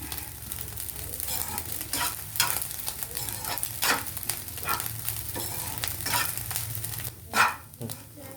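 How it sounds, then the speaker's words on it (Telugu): Fish egg fry crackles steadily in a pan over high flame while a spatula scrapes and turns it in repeated strokes. A dog barks briefly near the end. "ఒక 2 minutes హై ఫ్లేమ్లో పెట్టేసి వేయించుకున్నాం"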